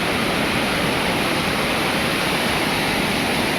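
River water rushes past a dam during rain, a steady, dense roar of flowing water that holds constant throughout with no voices.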